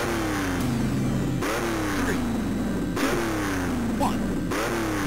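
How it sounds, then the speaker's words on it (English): Race car engines in the Le Mans 24 arcade video game rev at the start, with four repeated climbing revs, each cut off and restarted, loud and close. "Drivers, start your engine."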